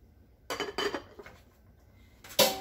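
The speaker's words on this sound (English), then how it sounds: "So let me put my lid on it" A lid clatters onto a crock pot holding pot roast, with two quick knocks, a pause, then a louder metallic clink as it settles, close and without talk.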